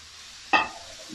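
Sausage with colored bell peppers and tomatoes hits a hot pan, bursting into a sharp, loud sizzle that fades into a softer crackle, with a faint stir near the end.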